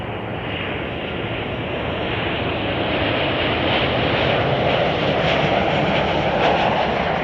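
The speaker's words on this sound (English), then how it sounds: "that's United Flight 633 arriving from Sacramento, California" A United Airlines 737-900 arriving at Chicago O'Hare, a steady broadband jet roar swelling slightly louder toward the end, heard from a distance with no voices.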